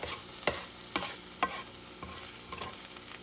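Chunks of bison or beef are heated in a pan with a splash of vinegar, a soft sizzle underneath while a utensil scrapes and stirs in quick, regular strokes about twice a second, close and clear.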